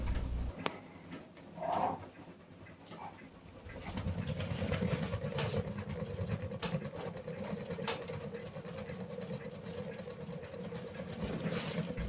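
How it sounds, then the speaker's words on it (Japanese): A Shinpo wood stove with its damper just closed draws air in with a quiet rhythmic puffing flutter, slower in tempo, steadying after a few seconds of near silence and a light knock. "空気を吸い込む時のパタパタパタっていう音がテンポが少し遅くなったのがお分かりでしょうか"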